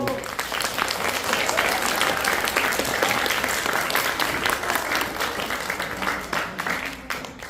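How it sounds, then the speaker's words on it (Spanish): Dense, sustained applause from an audience at a cultural event on the dance of La Purísima in Atotonilco, loud and steady throughout with a faint voice beneath it. "Un gran aplauso para Jesús."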